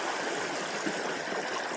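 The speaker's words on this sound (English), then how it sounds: "The first Elk Creek crossing, it is a lovely morning" Elk Creek flowing at a trail crossing on a chilly morning, a steady, close, full rushing of water with no voices.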